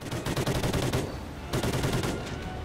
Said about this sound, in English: I don't know why I'm burst firing